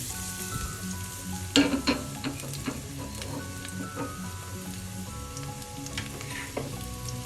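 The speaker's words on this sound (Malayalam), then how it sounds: "എണ്ണ ചൂടാകുമ്പോൾ അരിഞ്ഞു വെച്ചിരിക്കുന്ന 2 ഇളം വെളുത്തുള്ളി ചെറുതായി അരിഞ്ഞ് ചേർക്കാം" Finely chopped tender garlic sautés in hot oil for a garlic chicken dish, making a continuous sizzle with a sharp clatter early on and scattered small pops and scrapes, close and without talk.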